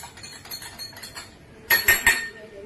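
Three sharp, bright clinks as Ortho powder and a tablet are mixed in a small container, following faint quieter taps, close and clear.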